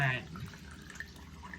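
Water drains out of a hot water heater being flushed, a soft trickling and dripping flow, faint and steady, with a short louder splash at the start.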